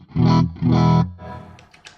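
Two distorted electric guitar chords ring out in quick succession through an overdriven digital preamp (Mooer Preamp Live), followed by a few quieter picked notes.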